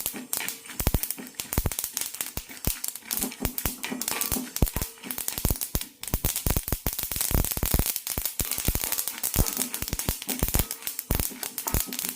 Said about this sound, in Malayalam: എള്ള് പൊട്ടിത്തീരുന്നത് വരെ വെയിറ്റ് ചെയ്യാം